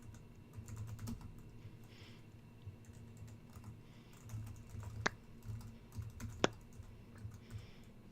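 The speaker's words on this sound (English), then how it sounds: "I'm just typing up the post for the last podcast" Computer keyboard typing runs steadily at close range, a dense patter of soft key clicks with a couple of sharper isolated taps, no voices.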